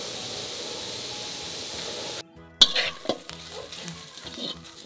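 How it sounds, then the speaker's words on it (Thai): Shallots and garlic being dry-roasted and stirred in a pan: a steady sizzle that cuts out briefly, then returns with sharp utensil scrapes and clatter against the pan. "ขั้นตอนแรกนะคะ เราคั่วหอมกระเทียมนะคะ"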